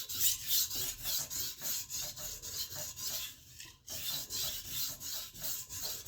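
A chef's knife is ground hard on a sharpening stone in steady back-and-forth strokes, a close, rhythmic rasping scrape repeating about twice per second with one brief pause midway.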